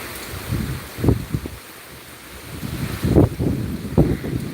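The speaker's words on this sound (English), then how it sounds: "we're getting the wind and the rain now." Hurricane Debby's wind and rain in Central Florida at night, a steady rushing roar with gusty low surges building around the one- and three-second marks, continuous and fairly close to the microphone.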